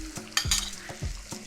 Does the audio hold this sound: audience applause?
no